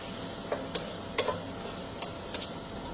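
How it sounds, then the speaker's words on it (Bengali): Onions frying until brown in a pan for chicken biryani, giving a soft, steady sizzle with a few sharp spoon taps and clicks spread through it. "এখন পেঁয়াজটাকে আমরা বেরেস্তা করব, বাদামি বাদামি করে ফেলবো"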